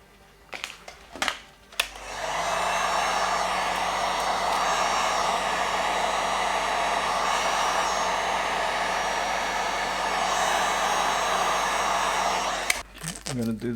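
A heat gun blows a steady, loud whooshing roar for about eleven seconds while warming tint film on a Tesla Model 3 rear light, with a few handling clicks before and after.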